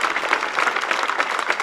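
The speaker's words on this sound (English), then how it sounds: "You clap as much as you want." Parade spectators along a street in Bennington applaud a fire department grand marshal at the Battle Day Parade, with dense, continuous clapping from a crowd, steady and fairly loud for the whole short burst.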